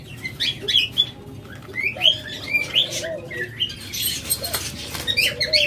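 Pet birds such as budgerigars, lovebirds, cockatiels and diamond doves chirp and tweet in a busy overlapping chorus, with short bright calls close by and occasional rustling or fluttering.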